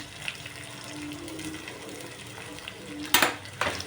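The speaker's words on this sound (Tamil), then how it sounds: "இப்போ வந்து முந்திரி பருப்பு சேர்த்துக்கலாம்." Cashews and green chili fry in a pan for thinai pongal. A soft, steady sizzle runs under the clip, with a faint tone, and a louder scraping stir comes near the end.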